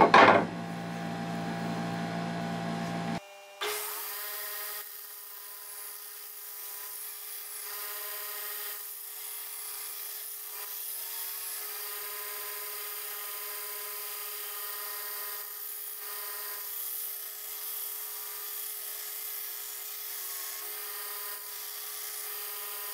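Belt grinder running a used 36 grit belt against a farrier's rasp, a loud opening burst of grinding that drops into a long, steady high-pitched whine with faint variations in tone.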